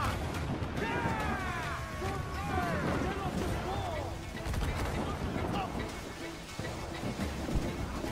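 Booming cannon fire in Assassin's Creed 4 sounds in a dense, continuous barrage during a naval battle, with voices and whistling tones layered over the rumble.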